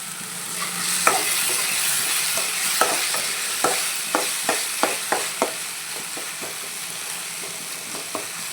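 Masala being stirred and sautéed in a frying pan, with a steady sizzle of frying under repeated close scrapes and clicks of a spoon against the pan, alone with no talk.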